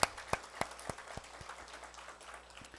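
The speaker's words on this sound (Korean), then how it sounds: "뜨거운 박수 환영합니다" Scattered applause welcoming a guest evangelist at a church testimony gathering, a few sharp claps up front fading into a thin patter.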